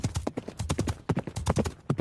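Horse hooves clip-clop in a quick, steady rhythm as the animal is ridden fast, close and fairly loud, with no talk over them.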